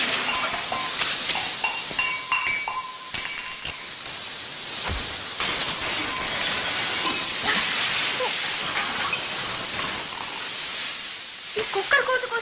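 Pressure cooker venting steam in a steady, loud broadband hiss that runs almost unbroken for the whole stretch, with faint clinks scattered through it.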